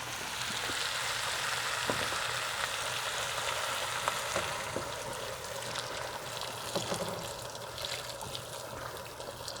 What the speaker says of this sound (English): And some hot water.